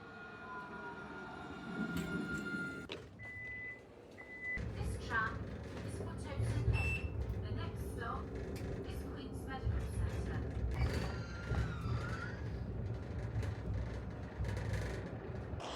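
A Nottingham NET tram at a stop hums and rumbles, with whirring motors, beeps and mechanical clunks as doors operate, while a person talks over the steady noise.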